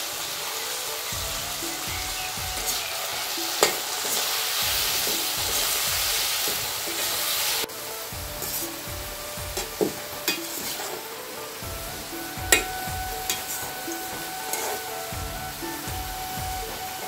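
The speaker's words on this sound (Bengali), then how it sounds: "আলুটা ভাজা হয়ে গেছে" Potatoes seasoned with salt and turmeric fry in a pan with a soft, even hiss, a quieter stretch midway and occasional sharp spatters and utensil taps, no voices.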